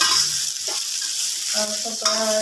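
Green chillies and onions sizzle in a pan for a soya chunk curry while being stirred slowly. The frying hiss is steady and close, with soft stirring movements and no talk.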